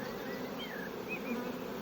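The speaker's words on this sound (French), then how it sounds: "toutes les abeilles qui sont sur le drap blanc, c'était l'ancienne colonie" Honey bees buzzing around a hive during the spring honey flow, a steady close swarm hum with individual bees whining past, heard alone without talk.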